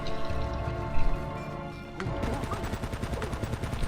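Gunfire in Uncharted: Drake's Fortune, a burst of shots and then a rapid, steady stream of automatic fire, loud under a game soundtrack.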